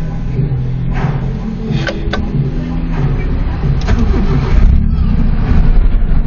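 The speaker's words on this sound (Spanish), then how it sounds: "Wow, volví a arrancar el carro." A 1993 Nissan Tsuru with a stalling fault cranks and catches, then settles into a steady running idle that swells slightly toward the end, close and loud with brief voices underneath.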